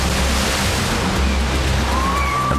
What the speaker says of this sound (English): Its unexpected neighbor is an ice-cold ocean.